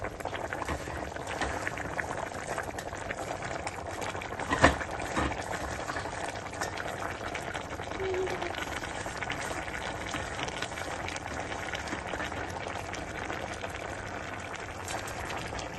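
Water for chicken vermicelli biryani churns at a rolling boil in a pot, a continuous bubbling rumble with one sharp clank partway through, heard alone and fairly quiet.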